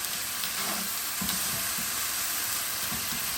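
Beetroot couscous with water sizzles steadily in a hot pan, a dense, close hiss of frying with faint stirring scrapes and no talk.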